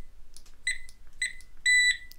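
A Nokta pinpointer metal detector probe set to maximum sensitivity gives three short electronic beeps, each a clean, steady tone with a few seconds' rhythm between them, heard close and alone with no talking.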